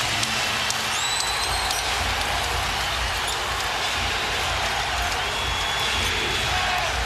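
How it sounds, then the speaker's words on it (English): Basketball arena crowd at an NBA Finals game rising to its feet, a dense, loud, continuous roar of cheering with scattered whistles, steady throughout. "Crowd on its feet."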